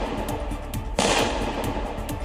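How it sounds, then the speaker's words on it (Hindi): Single pistol gunshot fired inside a college classroom, a sudden loud broadband blast about a second in that rings out over a busy, noisy room background. "पिस्तौल को अपनी कनपटी से सटाता है और फायर कर देता है"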